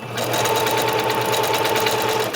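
A sewing machine sews a decorative stitch at close range, its rapid rhythmic needle chatter continuous and loud for a couple of seconds.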